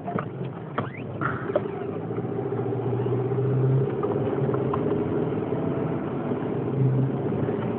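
A car engine's steady low rumble inside the vehicle on a ride to work, continuous and fairly loud, with faint rattles and creaks from the cabin over it.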